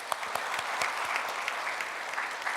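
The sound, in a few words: applause in church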